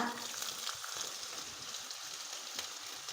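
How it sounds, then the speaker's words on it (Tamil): Cumin and chopped ginger fry in hot oil for coconut-milk upma, a steady crackling sizzle with fine popping, fairly quiet and even throughout. "ஜீரகம் நல்லா பொரிஞ்சு வந்துருச்சு இப்போ இந்த ஸ்டேஜில் பொடியாக கட் பண்ணி வச்சுருக்கிற ஒரு துண்டு இஞ்சியை"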